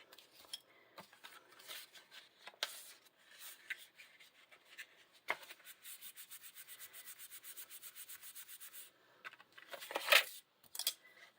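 A bone folder creases Glorious Gingham patterned paper for a snow toboggan hat treat holder, producing quiet rubbing and a fast run of soft scraping strokes, close up with no talking.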